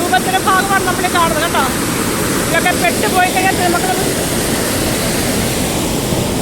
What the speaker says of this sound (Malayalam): ഇതാണ് നമ്മുടെ നെയ്യാർ ഡാമിൻ്റെ മറ്റൊരു ഒരു സത്യം പറഞ്ഞ ഒരു ഭീകരമായ രൂപമാണിത് വെള്ളത്തിൻ്റെ ഏറ്റവും ഭീകരമായ